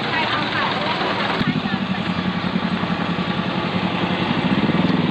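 A scooter engine drones at a steady pace on a road ride in Laos, loud and close, with wind buffeting throughout.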